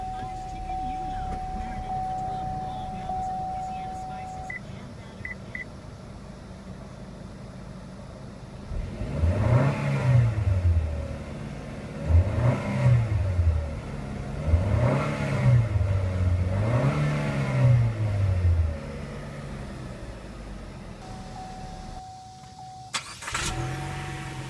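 A 2014 Chevrolet Sonic LTZ turbo engine idles, then revs four times in rising and falling surges before settling back, heard close from inside the car with a faint chime at the start and end.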